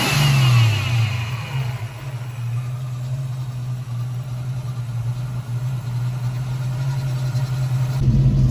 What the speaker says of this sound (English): It sounds like it has a supercharger.